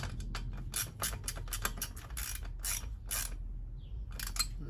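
Ratcheting clicks come in short bursts as a clamp on a cold air intake filter is tightened on a 1992–95 Honda Civic EG. The sound is close and fairly quiet, with brief pauses between strokes.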